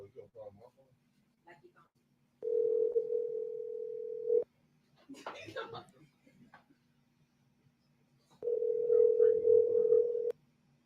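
A telephone rings out on an unanswered call, two long steady ring tones about two seconds each with a pause between, while people talk faintly in the gaps.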